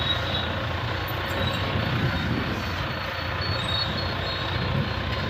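Loaded Carry vehicle driving in second gear, with a steady low engine drone and road rumble continuing throughout, no talk.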